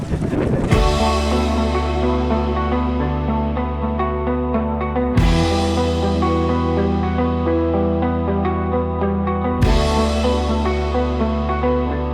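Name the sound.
boat travelling at sea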